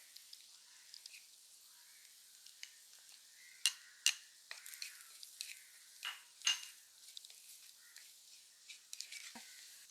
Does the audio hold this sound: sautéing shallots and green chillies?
yes